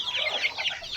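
Chickens on a rural Philippine farm clucking in a busy, continuous chatter of overlapping calls, fairly close and steady throughout.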